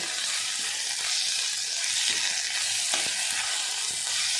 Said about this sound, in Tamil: சால்ட்டு போட்டுக்கலாம், வெங்காயம் சீக்கிரம் வதக்கும். இஞ்சி பூண்டு பேஸ்ட் போட்டாச்சு.